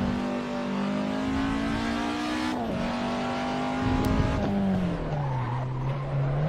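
A race car slides on a slippery track, its engine droning steadily as the tires squeal and skid, the pitch dipping and wavering through the long slide, loud and fairly close.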